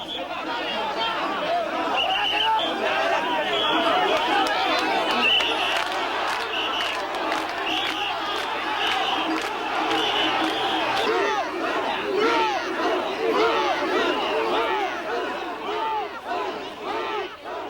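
Crowd at a Japanese festival mikoshi shrine procession, a dense, sustained mass of rhythmic chanting and shouting with excited chatter, loud and continuous throughout, swelling slightly midway and easing toward the end.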